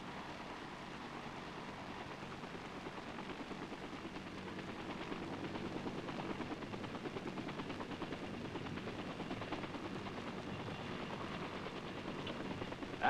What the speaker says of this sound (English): The 5 tough little choppers circle to take their places as protectors of the air fleet, which is now setting out for the landing zone.